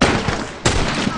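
A gunshot lands a headshot in The Last of Us. There is a loud close blast at the start and a second sharp crack about halfway through, followed by brief ringing tails.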